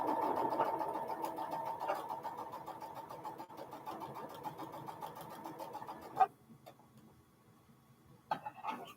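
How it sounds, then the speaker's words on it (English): A sewing machine hums steadily and close for about six seconds, then stops, leaving a quiet room with a couple of small clicks. "I tend to just work to the hum of the sewing machine."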